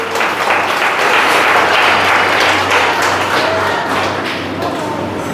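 An audience applauding to welcome guests at a gathering, a dense, loud, steady wash of many clapping hands that holds throughout and eases slightly toward the end.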